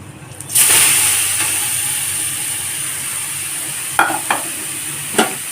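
Grated carrots dropped into a hot pan with cardamom for carrot halwa, a sudden loud hiss that settles into steady sizzling, with a few sharp spoon scrapes and knocks near the end.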